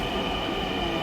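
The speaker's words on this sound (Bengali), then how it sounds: "আমরা যে ট্রেনটা যাবো। নাকি আসে নাই? আসছে আসছে," A metro train pulls into a station platform, giving a steady, loud rumble of rail wheels and car noise with faint squeal and no voices over it.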